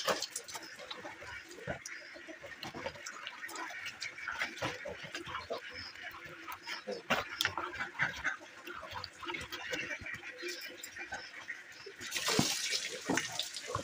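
Food being washed by hand in water, with a steady, noisy splashing and running-water hiss throughout and a brief louder surge near the end, while a person talks over it.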